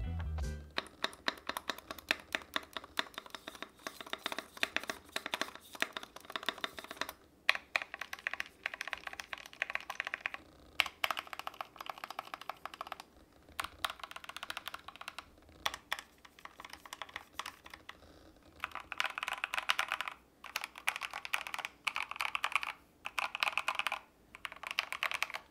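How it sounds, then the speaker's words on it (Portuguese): Steady typing on an Epomaker TH80 mechanical keyboard, with close, crisp clicks in quick rhythmic bursts and brief pauses, including space bar and Enter presses. "vamos dar uma testada aqui na barra de espaço, Enter e tudo mais, onde a gente tem os estabilizadores."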